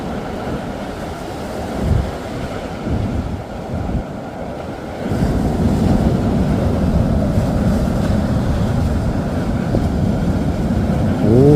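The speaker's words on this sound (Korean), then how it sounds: "계속해서 파도가, 거센 파도가 밀려오고 있습니다." Strong ocean waves crash and surge against a cold shore, a loud continuous roar with wind buffeting the microphone, building to a heavier wash midway and continuing without any talk.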